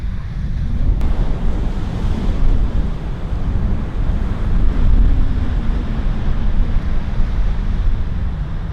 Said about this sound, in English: I can see the waves crashing.